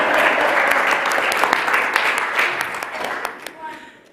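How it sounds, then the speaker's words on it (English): Audience applause after a lecture, steady dense clapping that thins out and fades toward the end, with scattered louder claps standing out near the close. "We can applaud that."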